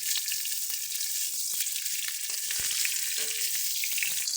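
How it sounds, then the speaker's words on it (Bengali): Cauliflower pieces frying in hot oil until lightly reddened, a steady bright crackling sizzle with small pops throughout, close and continuous. "ফুলকপিগুলোকে হালকা একটু লাল লাল করে ভেজে তুলে নেব"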